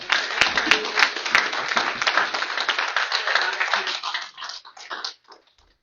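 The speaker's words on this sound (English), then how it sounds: "Let's just give them a round of applause." Audience applause for the candidates at a NAACP candidates forum, a dense burst of clapping that holds for several seconds and then thins to a few last claps before fading out.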